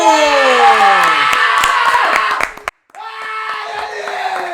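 At an MMA event, a crowd cheers and claps as the second fighter enters; loud shouting, clapping and whistles close by, with high tonal sweeps over the noise, a brief cutout near the middle, then the din resumes.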